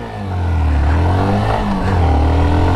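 A 2023 Hero Glamour 125 motorcycle pulls away in first gear, its engine note rising loud and close with a steady low throb and mild revving, no talk over it.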